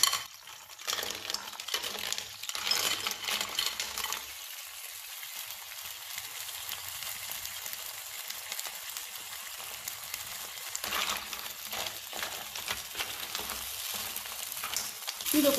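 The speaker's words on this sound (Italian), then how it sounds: "E ora aggiungiamo le cozze in padella." Mussels hitting a hot frying pan, a burst of close sizzling and clattering shells at first, settling into a quieter steady hiss, then flaring up again toward the end.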